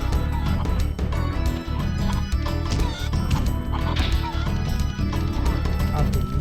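Squawking chicken in the PS1 game Spyro the Dragon, clucking and fowl cries mixed into a dense, continuous game soundtrack and effects at steady loud level.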